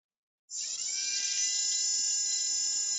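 Drilling sound from an animation of the Curiosity Mars rover's drill: a loud, steady high-pitched whine cuts in abruptly after half a second and holds evenly to the end.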